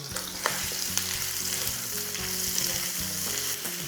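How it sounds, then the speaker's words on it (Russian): Onions frying in about 40 ml of vegetable oil in a pan, a steady close sizzle with soft rhythmic scrapes and clicks of stirring throughout. "Обжариваем лук"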